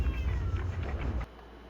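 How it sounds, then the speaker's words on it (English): A pet cat meows close by, one drawn-out, wavering meow lasting over a second, then a sudden drop to quiet. "Is that my cat meowing?"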